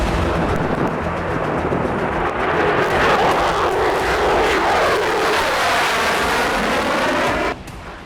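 A Dassault Mirage 2000 fighter jet roars loudly and steadily, a broad sustained engine rush that swells in the middle and cuts off abruptly near the end.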